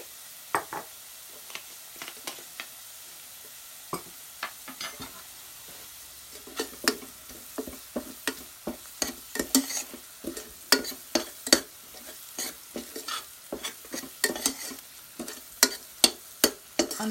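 Onions frying in a pan for bean and cheese burritos, with a soft background sizzle broken by frequent sharp scrapes and clatters of stirring that grow busier and louder as it goes on.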